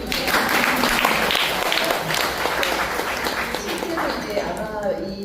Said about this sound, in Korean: 두 분한테 박수부터 먼저 드리고